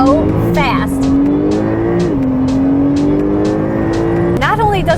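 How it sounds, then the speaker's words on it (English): A 2021 992-generation Porsche 911 Turbo Cabriolet with an 8-speed PDK dual-clutch gearbox accelerates hard, its loud, close engine note climbing and dropping sharply through quick upshifts, with a steady drone between shifts. "it uses Porsche's 8-speed dual-clutch PDK. And my goodness, the shifts in here are so fast."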